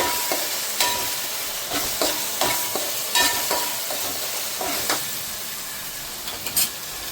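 Masala frying in a pan for goat fat curry, a steady sizzle broken by repeated sharp scraping stirs of a spoon against the pan, close and fairly loud, with no voices.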